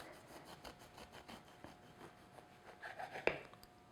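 A knife saws through a slice of fruitcake with quiet, rhythmic rasping strokes, close and faint, ending in a sharper click near the end.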